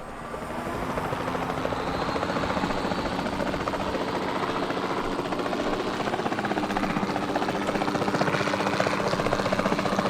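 A steady helicopter engine drone with thumping rotor texture in the video game Jurassic World Evolution 2, loud and continuous throughout with no pauses.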